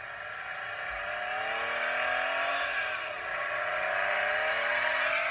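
A Hess toy car's battery-powered engine sound effect, a steady revving whir that rises and dips slightly, loud and close, playing alone without talk.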